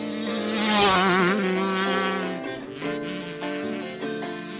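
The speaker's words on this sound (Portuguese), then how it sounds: "o ronco dessas motos era fantástico" Two-stroke motorcycles race past with a high, buzzing, ringing engine note that rises and falls in pitch as they pass close by, loud and continuous with no talking.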